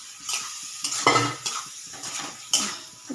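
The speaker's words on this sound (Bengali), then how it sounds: "এবার এই আলুগুলো দিয়ে দিলাম।" Salt-and-turmeric fried potatoes, fried until reddish, go into a pan with cabbage curry made with rohu fish head and are stirred, giving clattering metal scrapes and knocks in uneven bursts over a faint sizzle, close and fairly loud, no voices.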